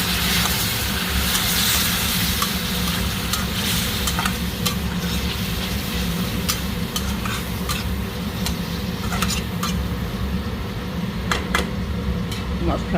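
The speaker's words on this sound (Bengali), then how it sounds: "মশলাটা ভালো করে ভেজে নিই।" Powdered spices fry and get stirred in a pan alongside tomato, a steady sizzle with repeated scraping clicks of the spoon, close and continuous, over a low background hum.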